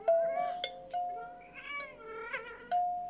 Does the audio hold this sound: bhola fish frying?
no